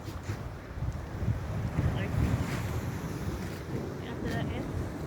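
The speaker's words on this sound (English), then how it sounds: "take a look at your waves, big waves coming in" Big ocean waves break near a cliff at Little Bay in Westmoreland, Jamaica, a continuous heavy roar of surf, loud and close, mixed with gusting wind noise on the microphone.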